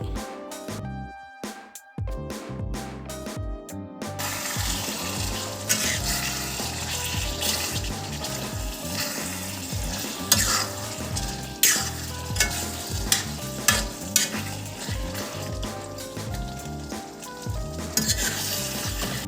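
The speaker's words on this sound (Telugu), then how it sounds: "ఇక్కడ చూస్తూ ఉంటే దోసపప్పు పేస్ట్ అనేది ఫ్రై అయిపోయి బాగా ఆయిల్ అనేది రిలీజ్ అయిపోయింది" Chicken with lentil paste fries in oil in a pan with a continuous loud sizzle, while a spoon scrapes and stirs in repeated clattering strokes. It is preceded by a brief burst of quieter kitchen noise.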